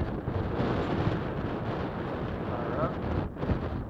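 Wind blows across an open field near Lake Waco, a steady loud rushing buffet against the microphone that carries through the whole stretch without pause.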